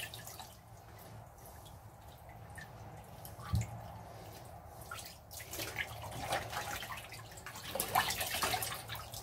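Dyed yarn rinsed under running water, a soft splashing and trickling stream in a sink with faint drips, growing slightly busier toward the end; no voices.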